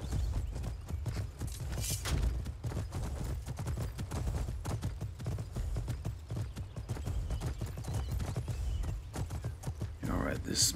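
Galloping horse hooves in Skyrim keep up a fast, continuous clip-clop rhythm throughout, dense and fairly close, with occasional game effects layered over the steady pounding.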